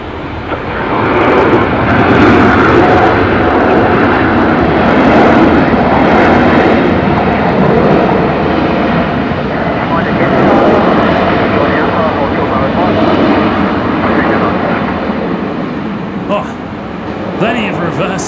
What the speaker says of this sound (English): Plenty of reverse thrust from Cafe tonight.